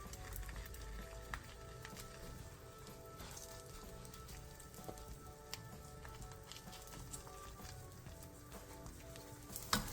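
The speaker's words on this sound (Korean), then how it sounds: "팬에 기름을 두른 뒤 어묵을 올리고 어묵 위에 다진 재료도 골고루 올려 중약불에서 부쳐주세요." Fish cakes topped with minced ingredients frying in oil in a pan over medium-low heat, making a soft, steady sizzle with fine crackling pops throughout.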